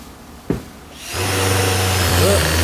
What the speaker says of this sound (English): Now you want to drive a screw in there.